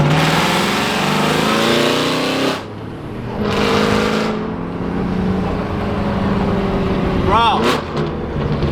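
Loud, raspy engine of a straight-piped Aston Martin Vantage droning and revving on a Japanese expressway, with a brief lull and surges before a short spoken word near the end.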